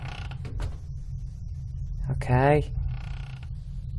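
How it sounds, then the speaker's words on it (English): In The Witch's House horror game, a creaking mechanism sounds a single rising, ratcheting creak of about half a second over a low rumbling backdrop, with a voice speaking briefly. "Don't creak on me."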